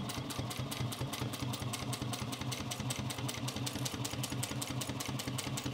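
A Juki 1541s industrial sewing machine runs steadily through leather, its fast regular needle stroke ticking over a low motor hum, continuous and close without pauses.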